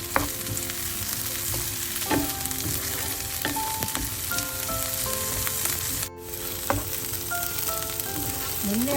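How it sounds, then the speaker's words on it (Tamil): Chopped onions with green chillies sautéing in a pan until glassy for a fish dish, a continuous loud sizzle with frequent spoon scrapes and stirring knocks, no talking. "இது கொஞ்ச நேரம் கண்ணாடி பதம் வரும் வரையும் வதங்கட்டும் இந்த வெங்காயம்"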